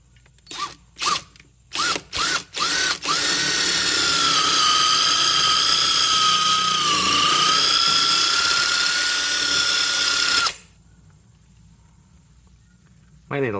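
Power drill boring a hole through a boat hull for an Alpha 1 outdrive oil reservoir, starting with several short bursts, then running steadily at a high whine for about seven seconds before stopping.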